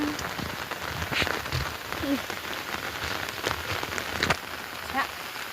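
Rain falls steadily in a village, pattering densely on surfaces with scattered heavier drips and taps throughout, continuous and even in level.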